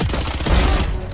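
Specter submachine gun fire in the video game Valorant, a dense, loud burst of rapid shots lasting about a second.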